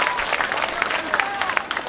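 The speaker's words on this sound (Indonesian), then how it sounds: "Tepuk tangan buat Banser" An audience claps enthusiastically at a religious gathering, a dense steady burst of applause with a few voices mixed in.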